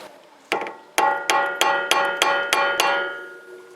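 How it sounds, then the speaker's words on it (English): Seven sharp metallic hammer strikes on an Acura Integra steering knuckle during wheel bearing work ring out at a steady, slightly quickening pace, each blow leaving a bright clanging decay. "Maybe I should learn how to hammer."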